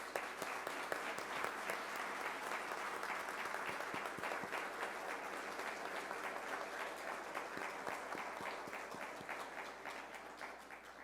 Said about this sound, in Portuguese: Peço a ele uma grande salva de palmas.